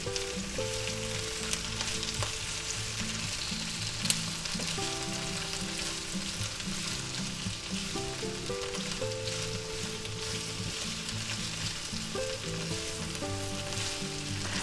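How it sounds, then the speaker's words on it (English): Green and red bell peppers fry in a pan with a steady, even sizzle and crackle that holds all the way through, with no voices over it. "Now we want to go ahead and saute these and fry them up good until they're nice and tender"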